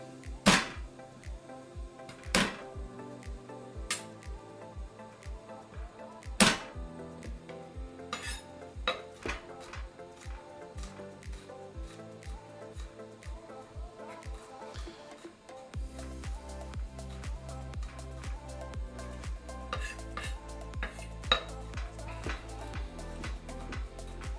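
Garlic cloves crushed and chopped with a knife on a board, a run of sharp irregular knocks and taps up close, becoming denser, quicker chopping toward the end.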